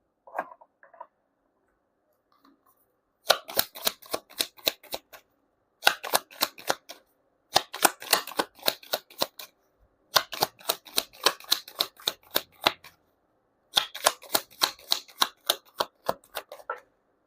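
Tarot cards shuffled in five quick riffling bursts of dense, crisp flutter, each lasting one to three seconds with short silent gaps between, close and fairly loud with no talking.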